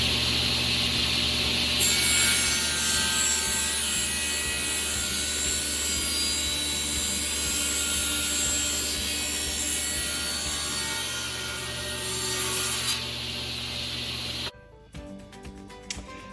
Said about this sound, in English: I've got it clamped up and ready to go on my miter sled. Kind of a scary little cut